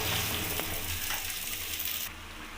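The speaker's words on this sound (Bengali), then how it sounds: "যে গোবিন্দভোগ চালটাকে আমি ম্যারিনেট করে রেখে দিয়েছিলাম সেটা আমি কড়াইতে দিয়ে দেবো।" Marinated Gobindobhog rice for basanti pulao tossed into a hot wok makes a dense, loud, continuous sizzle that drops off sharply near the end.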